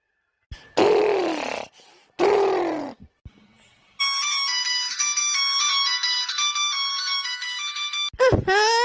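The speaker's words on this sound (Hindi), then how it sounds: "क्या का फोन बाजे लागा भाई" After a couple of groaning vocal sounds, a phone ringtone plays a repeating bright electronic melody for several seconds, close and clear, then cuts off.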